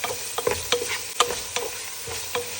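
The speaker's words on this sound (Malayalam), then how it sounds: "ഇഞ്ചി, വെളുത്തുള്ളി പേസ്റ്റ് ഇതെല്ലാം കൂടിയിട്ട് വഴറ്റാം." Ginger-garlic paste sautéing for a chicken curry: a low sizzle broken by several quick scraping strokes of a spoon against the pan, close and fairly quiet.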